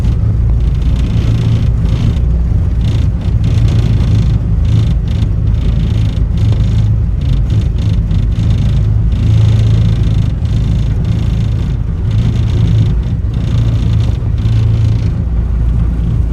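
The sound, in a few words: CAT 249D3 compact track loader rattling while plowing snow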